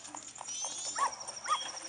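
A dog in the video game The Legend of Zelda: Majora's Mask gives two short barks or yelps over a faint steady game background, with no talk.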